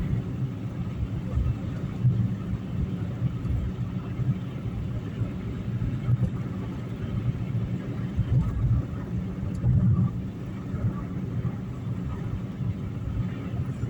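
Steady low engine rumble and road noise of a car cruising along, constant and unbroken, with no other traffic or voices standing out.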